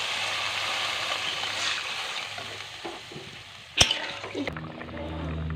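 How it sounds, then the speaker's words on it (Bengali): Water is poured into a pan of sizzling spice paste for a bhetki fish and potato curry, with frying hiss and stirring giving way to a sharp splash near the end. "ভালো করে কষিয়ে নিয়েছি এর মধ্যে দিয়ে দেবো জল পরিমাণ মতো"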